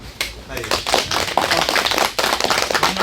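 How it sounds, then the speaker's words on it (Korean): Clapping from an audience welcoming a featured apple grower at a Korean farming seminar, a ragged burst of many hands rising quickly and holding steady, with a voice speaking over it. "예, 박수로."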